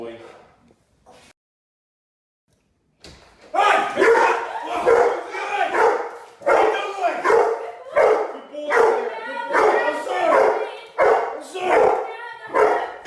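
Boerboel and Rhodesian Ridgeback dogs bark loudly and repeatedly during a home-invasion personal protection training drill in a residence, a close, rapid, aggressive stream of barks after a brief quiet start.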